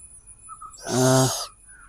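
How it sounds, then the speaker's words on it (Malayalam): A rescued mottled wood owl from Kannur gives a single loud, close, harsh call of about half a second, rising out of a quiet background. "ഇതാണ് കാലങ്കോഴി എന്ന് നമ്മൾ വിളിക്കുന്ന മോട്ടൽത്ത് പൊഡ്ഡോൾ എന്ന് പറയുന്ന മൂങ്ങ വിഭാഗത്തിൽപ്പെടുന്ന ഒരു പക്ഷി"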